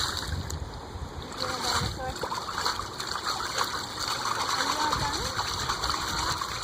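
Water splashes and churns in a swimming pool with steady sloshing throughout, while people talk over it.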